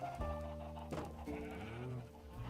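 A Minecraft sheep bleats in a wavering, nasal cry, twice in quick succession, clear and fairly close with no talk over it.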